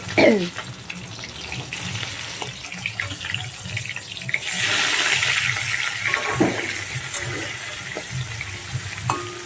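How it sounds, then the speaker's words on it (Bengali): Thick pieces of rohu fish fry in hot oil, a continuous close sizzling hiss that swells louder midway, with faint clatter around it. "এবার দেখো মাছগুলোকে আমি ভেজে নিচ্ছি"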